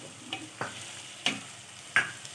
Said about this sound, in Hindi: अब इसको 5 मिनट हो गए हैं भूनते हुए